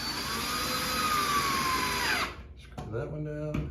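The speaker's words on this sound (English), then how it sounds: "We screw that one down." A power drill drives a screw into a curved shower rod mount with one continuous high whir that winds down, followed by a few clicks of handling.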